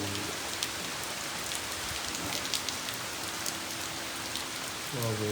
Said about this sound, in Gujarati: વરસાદ જો હજી ઓછો પડે છે.